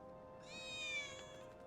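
A single cat meows once in the Final Fantasy VII Remake video game, a clear, rising then falling mew lasting about a second over a quiet background hum.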